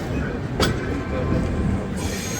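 The Seemanchal Express rolls along after pulling out of Prayagraj Junction, giving a steady close rumble of wheels and carriage noise with one short high squeal partway through.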